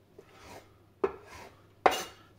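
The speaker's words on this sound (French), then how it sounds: "l'autre moitié, je vais le couper en dés" Knife strikes on a cutting board while Parma ham is diced, three separate sharp knocks spaced out in a quiet kitchen, the last one the loudest.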